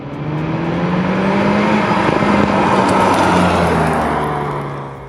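A 2021 Hyundai Veloster N DCT's turbocharged engine pulls hard and close, its growl swelling and its pitch climbing steadily before easing slightly at the end, with no talk.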